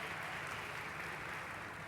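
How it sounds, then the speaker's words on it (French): An audience at an African summit session applauds the panelists with a brief, steady burst of clapping from a crowd, heard fairly faint and without voices. "des applaudissements, s'il vous plaît, pour nos panélistes"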